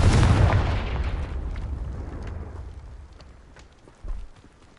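A Confringo spell blast in Hogwarts Legacy, a loud booming explosion right at the start that rumbles and decays over a few seconds, followed by a smaller secondary thump near the end.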